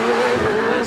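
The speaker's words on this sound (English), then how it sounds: "Beautiful Judd powered car. Just turns it round Pardon through the gears." Judd-engined hillclimb race car at Prescott, a short burst of loud, high engine note as it turns and pulls through the gears close by.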